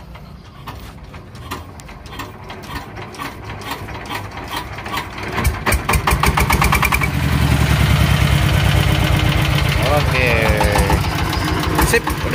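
A new Dompeng diesel engine is cranked and catches, a rapid rhythmic ratcheting chug that builds and settles into a loud, close, steady knocking run, with someone speaking briefly over it.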